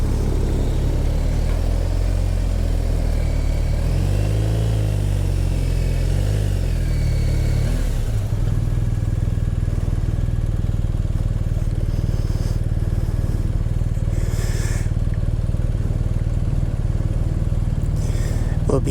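A BMW R1250RT motorcycle engine idles and runs with a loud, steady low rumble, close by and continuous, with a brief shift in tone partway through as the bike gets ready to ride.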